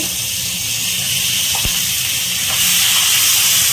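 Ground spice paste hits hot oil with turmeric and sizzles as a loud, steady broadband hiss, growing slightly stronger near the end, with a faint clink partway through.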